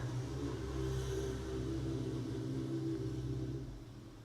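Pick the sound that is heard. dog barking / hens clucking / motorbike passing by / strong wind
motorbike passing by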